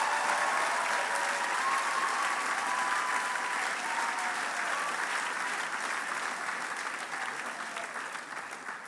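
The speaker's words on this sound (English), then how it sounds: "let's just give her applause right now" Steady, dense applause from a large crowd at an ACLU Southern California honors event, sustained and even throughout with a slight fade toward the end, no voices standing out above it.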